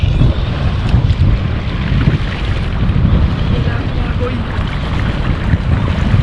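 Strong wind buffets the microphone in a continuous low roar on a coastal shore while fishing, with water and boat noise mixed underneath.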